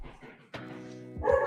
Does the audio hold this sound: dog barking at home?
yes